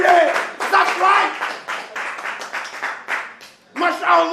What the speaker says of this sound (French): Applaudissez-moi ce chef!